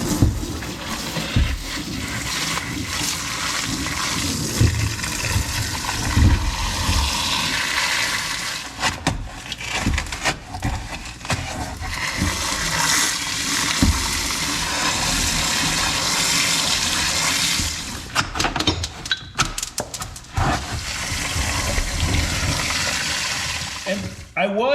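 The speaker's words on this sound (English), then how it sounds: "I'm going to take a hose and" Water from a hose rinsing out an ATV belly pan skid plate, a steady broad hiss and splash running close and loud throughout with brief interruptions, a voice occasionally underneath.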